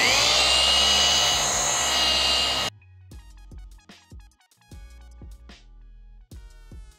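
A polishing machine buffs BMW paint after wet sanding with a loud, steady whirring drone that stops abruptly, followed by sparse quiet taps and rustles.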